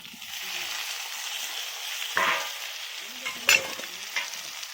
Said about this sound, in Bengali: ওলকপি ভাজাটা দিয়ে দিলাম